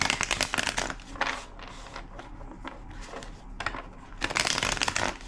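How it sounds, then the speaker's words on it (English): Tarot cards being riffled and shuffled close by in several quick bursts, with softer handling and tapping between them. "2 more shuffles"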